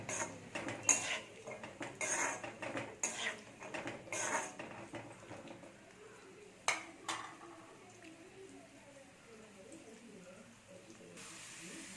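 Ingredients roasting in a pan for Tamil-style sweet pongal (sakkarai pongal), with faint sizzling and frequent clinks of a spoon against the pan, under occasional speech.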